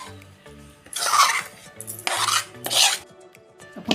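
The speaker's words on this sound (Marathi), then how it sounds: "आपण हे पातेल्यात बॅटर ओतून घेऊया." Semolina cake batter for a rava vanilla cake is poured and scraped into a metal pot in three close bursts of rasping, scraping strokes, with a spoon or spatula rubbing against the metal.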